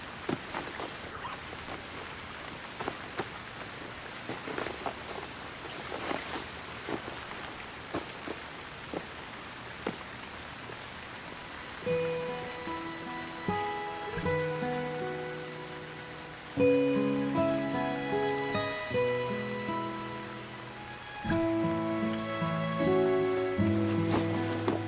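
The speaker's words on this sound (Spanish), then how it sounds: "Qué tiempo tan horrible. ¿Cómo llueve hoy?" Heavy rain falling steadily throughout, a dense hiss of drops hitting surfaces, with melodic music rising beneath it in the second half.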